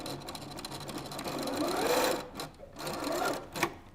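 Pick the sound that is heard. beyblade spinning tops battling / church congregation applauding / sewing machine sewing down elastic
sewing machine sewing down elastic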